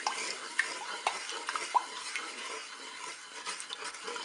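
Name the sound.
stirring panna cotta mixture in Cookeo pot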